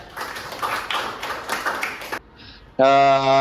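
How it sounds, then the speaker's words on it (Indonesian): Classroom applause for a student during a teaching practice session: about two seconds of quick, close clapping mixed with voices, then a pause and a short electronic tone. "tepuk tangan dong buat Queennya"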